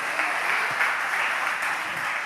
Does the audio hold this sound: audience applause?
yes